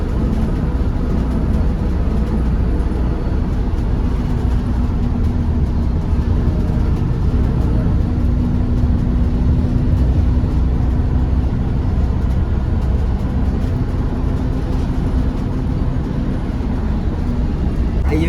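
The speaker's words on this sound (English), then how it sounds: "So I'm on a bus." Inside a moving bus, a steady low engine rumble and road drone hold constant and fairly loud throughout, with a faint hum and no clear talk above it.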